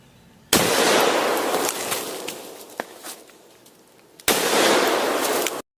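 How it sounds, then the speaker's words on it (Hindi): Two loud revolver gunshot blasts, each a sudden hard burst trailing into a roaring second-long rush, separated by a quieter stretch with a single sharp crack, no voices. "जब इस रिवॉल्वर से गोली चलाई जाती है तो ये इतनी पावरफुल होती है कि सामने पड़ी चीज को एक ब्लास्ट की तरह तबाह कर देती है"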